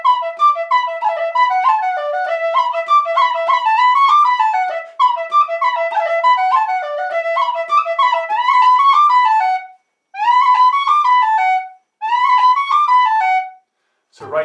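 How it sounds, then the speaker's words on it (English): A tin whistle plays the reel Drowsy Maggie, bright and close, a quick stream of ornamented notes including a long B roll, continuing through two brief pauses, with no talking. "I'll play the A part once, and then the second time around, I'll throw in the long B roll"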